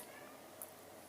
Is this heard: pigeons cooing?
no